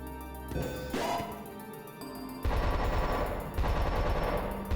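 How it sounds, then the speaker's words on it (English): A security camera in the Covert Critter stealth video game fires rapid bursts at a decoy, loud clattering automatic gunfire in two sustained volleys following a short mechanical whir. "Oh, camera shooting at it though."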